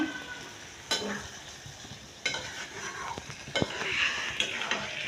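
Prawn malai curry with coconut cooking in a pan, a soft simmering sizzle broken by several sharp clinks and scrapes of a utensil against the pan, close and fairly quiet.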